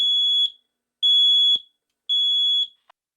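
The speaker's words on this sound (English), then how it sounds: "the smoke sets off the basement alarm" Three long, shrill electronic beeps from a basement smoke alarm, evenly spaced with short silent gaps, loud and clear with no voices.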